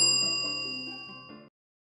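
A single bright notification ding rings out alone, a clean bell-like tone with sustained overtones that decays steadily and cuts off after about one and a half seconds.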